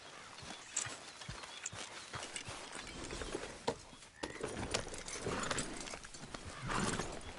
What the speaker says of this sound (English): Grab your horse and let's go.